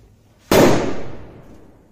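A single sharp, loud blast from a Kristas brand Atom Foils firecracker erupts after a quiet moment, followed by a rumbling echo that fades over about a second and a half.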